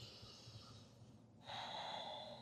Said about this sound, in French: On va prendre une longue respiration ici.